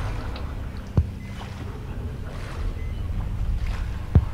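Splashing and wading through water in the horror game Outlast, a steady low wash of movement with two sharper sloshes, one near the start and one near the end.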